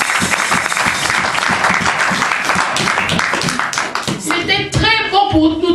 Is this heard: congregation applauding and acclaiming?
yes